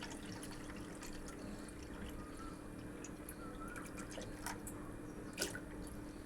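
A small vessel of water poured into a cooking pot for Korean-style Maggi noodles, a steady trickling and dripping splash that runs throughout at a low, close level with no talk over it.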